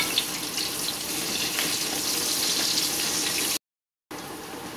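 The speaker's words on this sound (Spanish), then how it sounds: "ahora vamos a freír las verduras" Vegetables frying in oil in a pan, a steady broadband hiss and crackle that runs evenly, cuts out briefly, then resumes.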